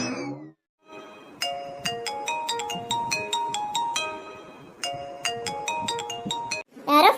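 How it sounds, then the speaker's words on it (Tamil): A phone ringtone for an incoming call, a loud melodic chiming pattern repeating in bursts after a short pause, close by, with a brief voice at the start and end. "யாரோ ஃபோன் பண்றாங்க."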